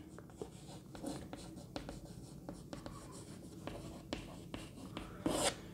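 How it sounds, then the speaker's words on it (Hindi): Chalk or marker writes a heading on a board in a classroom lesson, a quiet series of short scratchy strokes and taps in an irregular rhythm, close by. "मैं हेडिंग लिख दे रहा हूँ इनफाइनाइट सेट"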